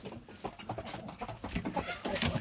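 Chickens and young roosters in a backyard poultry pen give off a steady, close jumble of clucks and short calls, with no talk over them.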